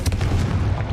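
A Confringo spell blast in the video game Hogwarts Legacy: a short, loud explosive boom with a heavy low rumble, close and alone.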